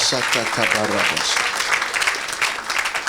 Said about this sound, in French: Acclamez pour Jésus.